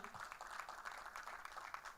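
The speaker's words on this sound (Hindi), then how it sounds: "एक बार जोरदार तालियां हो जाएं।" An audience claps at a film trailer launch for Carry On Jatta 3, a dense, steady wash of applause that is fairly quiet and fills the whole short moment.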